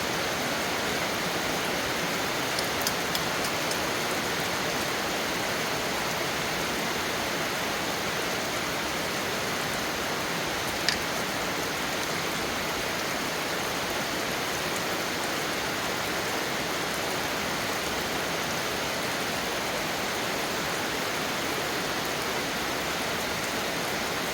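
Steady rain falls continuously, an even hiss of drops on surfaces with no voices, moderately loud throughout.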